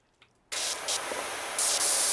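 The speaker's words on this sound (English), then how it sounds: "I aim and I spray." Pressure washer spraying in PowerWash Simulator 2 video game, a harsh loud hiss bursting in after a brief quiet start and holding steady, with slight surges in intensity.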